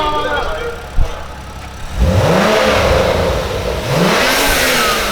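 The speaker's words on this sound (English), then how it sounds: "He's about to rev this shit the fuck up" A car engine at a car meet revs loudly twice, each rise sweeping up in pitch and falling back, with crowd voices and chatter around it.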